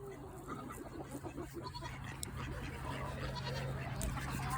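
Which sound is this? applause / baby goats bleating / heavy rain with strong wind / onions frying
baby goats bleating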